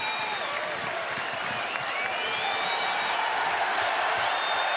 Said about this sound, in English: How about this crowd?